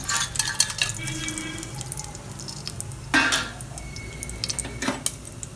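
Fennel seeds, cinnamon, cloves and cardamom sizzle in hot oil for mutton kulambu, a steady close frying hiss. Sharp clinks of a metal spoon against the pan break through it at intervals.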